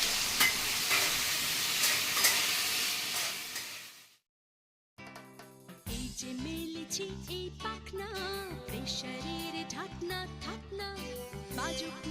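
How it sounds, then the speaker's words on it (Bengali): Quartered onions fry lightly in a pan with a steady, close sizzle and stirring for about four seconds, then cut off abruptly and are followed by unrelated music. "এই যে চার টুকরো করে রেখেছি পেঁয়াজগুলো এইগুলোকে আমি হালকা ভেজে তুলে নেব"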